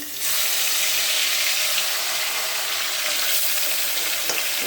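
Fish frying in hot oil in a pan, a loud steady sizzle that starts abruptly and holds evenly, close by and with no talk.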